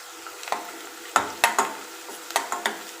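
Chopped onion and garlic with bay leaf and curry leaves frying in a pan, with a soft steady sizzle under several sharp scraping stirs of a spoon against the pan, close by and fairly quiet, no voices.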